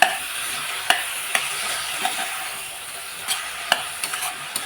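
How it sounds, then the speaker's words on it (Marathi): Curd stirred into fried soybean biryani masala in hot oil, a constant bright sizzle with occasional sharp spoon taps against the pan. "आता त्याच्यामध्ये टाकते मी दोन चमचे दही हे टाकून चांगलं मिक्स करून घेऊ आपण"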